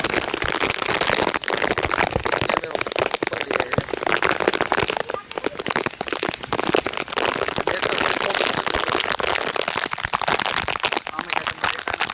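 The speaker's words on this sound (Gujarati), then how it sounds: "બહુ વરસાદ આવે છે." Heavy rain pours down steadily and loudly throughout, a dense, continuous hiss with crackling spatter close by, unbroken from start to finish.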